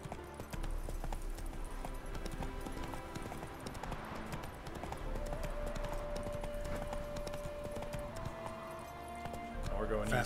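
Roach, Geralt's horse in The Witcher 3 on Death March difficulty, gallops with fast continuous hoofbeats and a dense rhythm, while someone talks over the game sounds.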